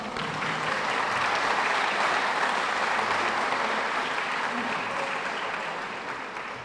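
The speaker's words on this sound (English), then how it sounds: "Round of applause." A large audience at a police pinning ceremony applauds sixteen newly sworn-in officers, a loud, dense, continuous wash of clapping that stays steady throughout and tapers slightly at the close.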